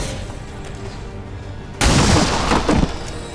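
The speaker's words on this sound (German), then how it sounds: "feuere Pistole auf ein Ziel" After a quiet hum, a single sharp pistol shot in a video game bursts in loudly, followed by a noisy crackling tail and a second impact.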